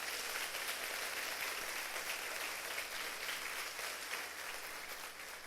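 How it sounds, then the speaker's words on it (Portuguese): A congregation applauding during a church service, a steady wash of clapping held at an even level for several seconds, fairly faint and distant. "Aplauda ao Senhor por isso."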